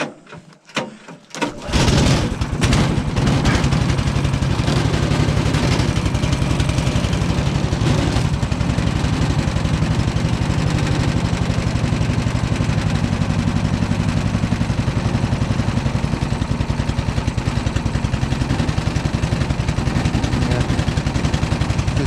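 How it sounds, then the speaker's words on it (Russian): A motorcycle engine idles while warming up on a cold start, a continuous close, even rumble that holds steady for about twenty seconds after a brief stutter at the start. "Все четко, прогревается двигатель."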